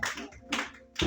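A church congregation claps to acclaim Jesus, with three quick loud bursts of many hands spaced about half a second apart, close and lively.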